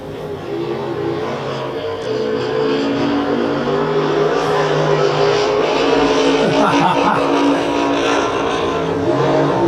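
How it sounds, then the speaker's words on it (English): A loud race car with a 750 cubic inch big-block engine roars steadily throughout, with a deep rumbling tone that rises slightly as it accelerates, nearby and continuous. "I heard rumors that was a 750 cubic inch motor inside Gary's car. It sounds like it."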